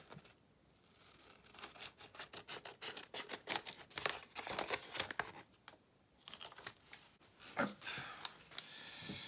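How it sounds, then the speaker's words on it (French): Scissors snip through small strips of craft paper in a rapid, irregular run of crisp cuts close up, broken by brief pauses and some paper rustling, with no talk. "je viens découper des petites bandes, pareil, de papier"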